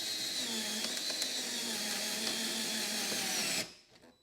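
A power drill runs steadily at close range, driving screws into an in-wall speaker, a loud continuous whir that cuts off abruptly near the end.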